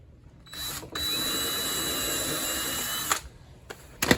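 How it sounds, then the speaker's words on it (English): A power drill pre-drilling screw holes in wood whirs steadily for about two seconds, then cuts off, followed by a couple of short clicks and a brief final burst. "I better pre-drill those too."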